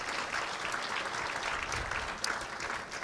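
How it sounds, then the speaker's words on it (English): Audience at a chamber of commerce award celebration applauds the event's major sponsors, a steady patter of clapping from a moderate-sized room, fairly distant and soft throughout. "I just wanted to give a round of applause to all of our major sponsors,"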